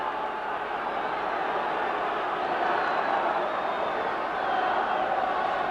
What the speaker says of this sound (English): The Huddersfield crowd to our left trying to lift their side to a dramatic finale here